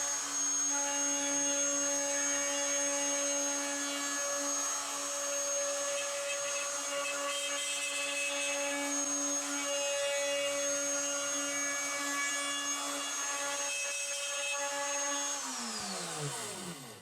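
A plunge router fitted with a long-reach round-nose bit cuts into wood with a steady, loud high-pitched whine that holds for many seconds, then spins down sharply near the end.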